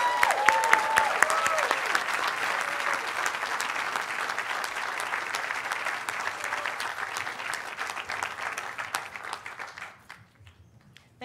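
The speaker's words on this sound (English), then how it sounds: "Please give all of our graduate students a big round of applause." Sustained round of applause from the audience at a university sociology graduation ceremony, steady and even throughout before fading out abruptly near the end.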